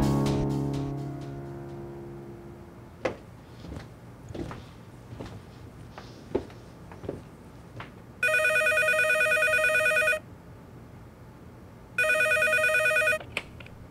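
An old-style telephone rings twice in long electronic bursts, preceded by a few scattered knocks and clicks in a quiet room.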